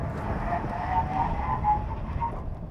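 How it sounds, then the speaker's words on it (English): A Mercedes-Benz SL550 coupe-roadster braking hard from 60 mph, a steady road and engine rumble with faint tire squeal as it slows. "And now we begin our 60 to 0 braking test."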